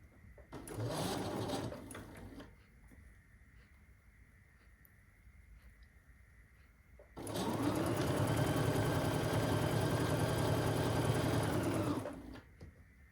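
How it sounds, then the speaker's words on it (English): A sewing machine stitches a quilt block, running in a short two-second burst, pausing, then humming steadily for about five seconds at close range. "we're going to flip it around and we're going to sew down the other side"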